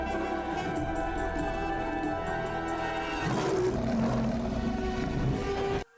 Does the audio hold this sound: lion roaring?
yes